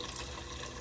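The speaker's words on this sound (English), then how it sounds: "I throw in the boiled water" Boiled water pouring into a cooking pot for rice porridge, a steady close rushing splash filling the whole short moment without any voices.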